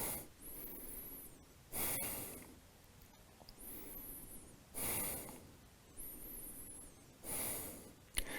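Slow, deep breaths during a vinyasa yoga arm balance, with four or five long hissing exhales through the nose at an even rhythm, each separated by quiet pauses, close to the microphone.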